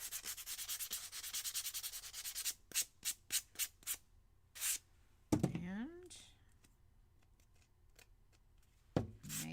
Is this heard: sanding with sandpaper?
yes